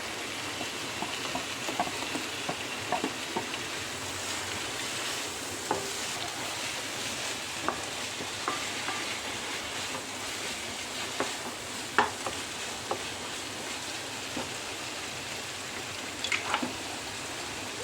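Onions sautéing for egg curry (mutta curry) sizzle steadily in a pan, a soft continuous hiss with occasional stirring clicks, fairly close and alone without talk.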